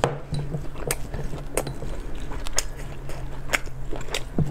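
Close, crisp bites and wet chewing of stewed pork and mushroom, with sharp crunchy snaps spread through a steady squishy mastication and faint utensil clinks, no talking.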